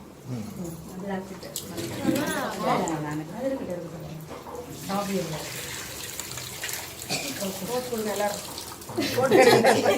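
Water poured by hand in a domestic setting, a continuous splashing pour that swells toward the end, with voices talking throughout.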